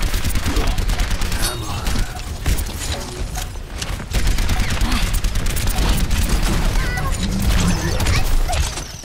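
Gunfire in the shooter Overwatch on Xbox One, rapid, dense bursts and clattering impacts that continue almost without pause amid chaotic game effects, with a player talking over it.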